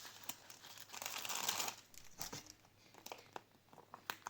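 Crinkly tearing and crumpling of a thin paper surprise packet, a longer rip followed by scattered crackles, close and fairly quiet with no talking.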